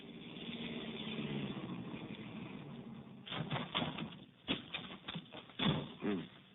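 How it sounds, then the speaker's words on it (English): Car pulling up to a ranch as a radio drama sound effect: a steady engine hum at first, giving way to uneven crunching and rumbling as the vehicle slows, with muffled low voices briefly underneath. "We drove over to Alva Briggs' ranch"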